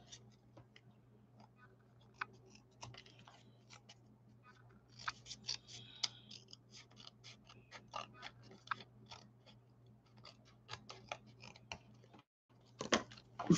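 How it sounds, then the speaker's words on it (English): Scissors snip through fluid acrylic painted paper in short, dry clicks, scattered and uneven, with a denser burst of cuts toward the middle and end, close and fairly quiet over a low steady hum. "I'm going to cut."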